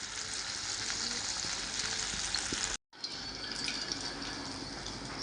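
Crispy chicken popcorn fries in a shallow amount of oil over a high flame, a dense, steady, close-up sizzle that breaks off for a split second midway before continuing.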